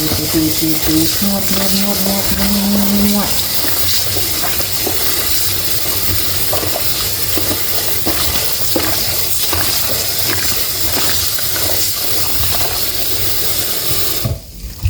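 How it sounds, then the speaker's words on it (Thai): Kaffir limes washed and kneaded by hand in a basin of water, for candied kaffir lime: steady close-up wet rubbing and sloshing that runs throughout with no voices. "ต้องล้างแล้วก็นวดดไปด้วย ตีตีตีตีตีนวดนวดนวดนวดนวดนวด"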